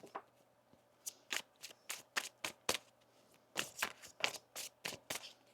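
A deck of tarot cards is shuffled up close in quiet surroundings, giving a run of crisp, quick riffling bursts in two clusters with short pauses between, and no talk over them.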